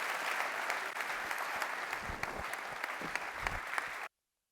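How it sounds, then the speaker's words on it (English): Audience applause for the organizers at a UIKonf tech conference, a thick, continuous roar of many clapping hands at steady loudness that stops abruptly near the end, leaving silence. "can we have some more applause for the organizers who put so much work into creating this great event?"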